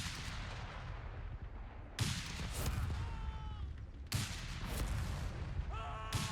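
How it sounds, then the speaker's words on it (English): Incendiary artillery shells landing in Company of Heroes 3: two sharp, heavy impacts about two seconds apart over rumbling battlefield noise, with crackling fire and distant gunfire in between, and no speech. "as soon as one shell lands, then it's just burning for the rest of time"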